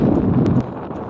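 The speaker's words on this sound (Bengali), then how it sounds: "হাওয়ার আওয়াজটা তো শুনেই বুঝতে পারছো কেমন হাওয়া হচ্ছে" Gusty wind over a village paddy seedbed buffets the microphone with a low, rumbling rush that eases off halfway through into a softer steady blow.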